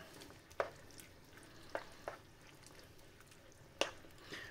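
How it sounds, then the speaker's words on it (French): Seasoned courgette stuffing stirred gently in a pan, faint soft sizzle broken by a few sharp spoon scrapes and clicks spaced irregularly, no voices. "Hop, on va mélanger ça tranquillement."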